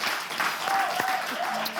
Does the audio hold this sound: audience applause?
yes